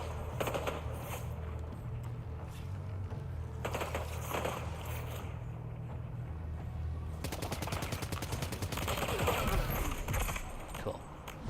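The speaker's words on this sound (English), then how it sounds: "who's shooting us?" Video game gunfire in bursts, quieter rattling early on, then a sustained rapid automatic volley in the second half, with keyboard clicking and mechanical sounds underneath.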